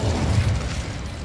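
The Incendio fire spell goes off in Hogwarts Legacy as a loud, low whooshing burst of flame. It is close and alone, and the roar fades gradually over about a second.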